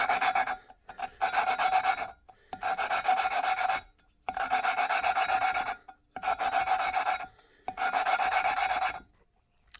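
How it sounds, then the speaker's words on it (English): Valves from a 2011 Kawasaki KX250F engine are lapped in with fine abrasive compound, producing loud, close, gritty rasping strokes in five sustained bursts separated by short pauses. "Next thing I'm going to do is relap my valves in."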